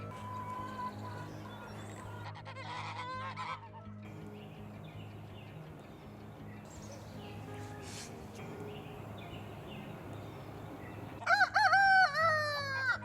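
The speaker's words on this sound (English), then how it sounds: "you got the roosters crowing, the geese are honking" Roosters crow repeatedly on Beech Grove Farm at sunrise, with clucking fowl and scattered calls over a low farmyard hum, one loud crow bursting near the end; geese honking is not clearly distinguishable.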